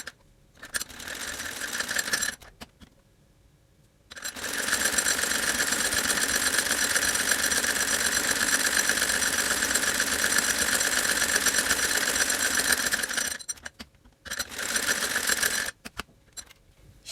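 A sewing machine stitching a doubled length of ribbon gives a steady, close mechanical whir. It starts in a short burst, pauses, then runs continuously for about nine seconds before stopping and giving one more short run.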